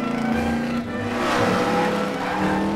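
Animated stock race cars roar around an oval in a final race, loud layered engine whines and revving rising and falling as several cars speed past close by, with no voices.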